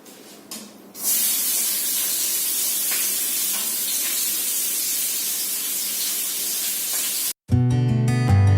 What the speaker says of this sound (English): So I'm going to be adding the chopped onion and chopped green chilies right now into the oil.